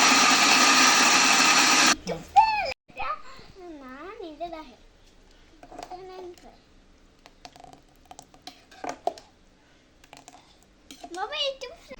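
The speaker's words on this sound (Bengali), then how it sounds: "এখন আমি আমগুলো ব্লেন্ডার করে নেব" A blender whirs loudly as it purees ripe and raw mangoes with ginger. The burst lasts about two seconds, then stops, and a voice talks over the quieter kitchen.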